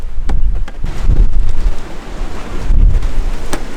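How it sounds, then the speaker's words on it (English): Strong gusts of wind buffet the microphone in loud, rumbling waves, with a few sharp knocks and rustles in between. "Okay, it's getting super windy"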